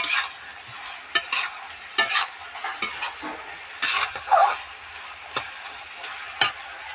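Vegetable curry with green chilli, ginger and stalks stir-fried in a pan, with repeated sharp scrapes and knocks of a spatula over a low background sizzle, close and without talk.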